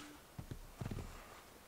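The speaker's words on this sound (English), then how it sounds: "Nice thing is my horse comes to me once I get back on the ground." Horse hooves clip-clopping in the video game Assassin's Creed 2, a few quiet separate steps followed by a quick cluster of hoofbeats over low background ambience.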